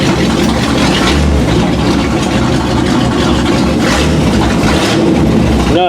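A 1979 Chevy K20 truck with its 203 transfer case in low gear rumbles loudly and steadily, heard up close with a continuous engine drone and vibration.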